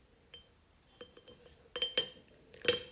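A spoon clinks against a glass mason jar as herbal powder is measured in, giving light scattered taps and then several sharper clinks toward the end, close and fairly quiet.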